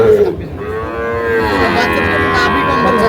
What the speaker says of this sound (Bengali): দুটো শাহিওয়াল ষাঁড় বাচ্চা,